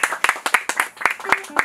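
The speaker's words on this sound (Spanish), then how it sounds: "Un fuerte aplauso para la cumpleañera" A small group at a birthday party with mariachis claps in quick, uneven bursts, with voices mixed in over the applause.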